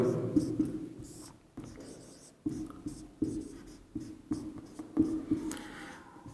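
Chalk or pen scratching out a math formula by hand during a Hindi-language school lesson on polynomial zeros, short repeated strokes in bursts with pauses, close and moderately loud under a faint background hum.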